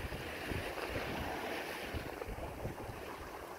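Strong wind at a seaside fishing spot by Gongsu Village in Gijang roars and buffets steadily and loudly, with sea noise underneath and no voices.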